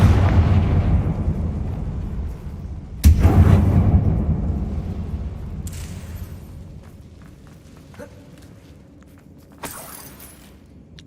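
Confringo fire-spell blasts in Hogwarts Legacy boom loudly, with a big explosion at the start, a sharper second one a few seconds later, a rumbling decay and a third, fainter burst near the end.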